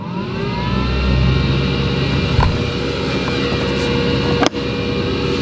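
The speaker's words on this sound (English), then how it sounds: "So there you can hear that fan." A steady electric fan whirs in the rod box of an $85,000 bass boat, a constant close drone with a faint rising tone and a sharp clunk near the end.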